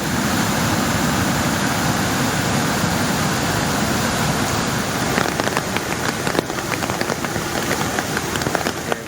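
Heavy monsoon rain pours down in northern Malabar, a dense, loud, continuous hiss of rain on surfaces, with sharper drip and splash patter growing in the latter half and no voices.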